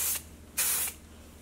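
Two short bursts of Davines dry texture spray hiss onto hair at close range, each lasting a fraction of a second with a brief gap between them.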